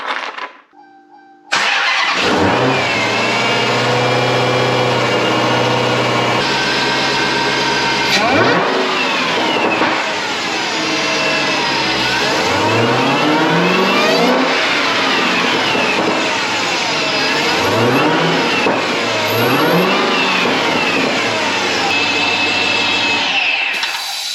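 A Dodge Challenger Hellcat with a newly installed Bwoody intake fires up and idles loudly up close, then revs repeatedly in rising and falling sweeps with a strong supercharged whine.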